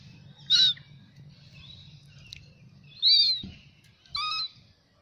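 Birds squabbling at an Australian roadside rest area, with sharp high chirps and squawks in three short bursts over a low background rumble, close and fairly loud.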